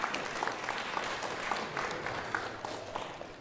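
A party crowd gives a warm round of applause, dense steady clapping from many hands that fades slightly toward the end.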